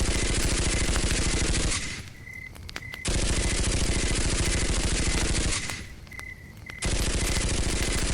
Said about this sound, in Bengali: এলোপাথারি এদিক ওদিক গুলি করতে থাকে